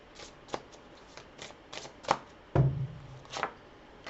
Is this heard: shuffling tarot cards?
yes